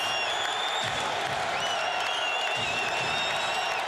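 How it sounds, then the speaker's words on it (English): Crowd noise fills a basketball arena late in the second quarter of a 2006 NBA playoff game between the Cavaliers and Wizards, a dense, continuous roar of cheering and applause heard alone. "Crowd getting on its feet as we wind down the 2nd quarter"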